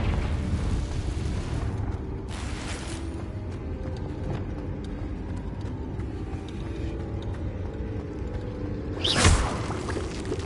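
Confringo, the blasting spell in Hogwarts Legacy, plays out as a steady rumbling magical roar with scattered crackles, then bursts into a sharp, loud blast near the end.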